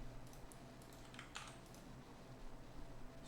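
Close, quiet typing on a computer keyboard, a steady patter of key clicks with a few louder strikes and no talk.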